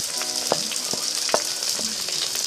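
Garlic sizzles and crackles in a frying pan of pork, with a steady bright hiss of hot oil broken by a few sharp pops, loud and close, with no voices.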